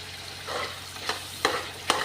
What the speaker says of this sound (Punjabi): ਮਿਕਸ ਕਰ ਦਾਂਗੇ ਸਾਰਾ ਸਮਾਨ ਸਾਰਾ ਮਸਾਲਾ ਅਰਬੀ ਦੇ ਵਿੱਚ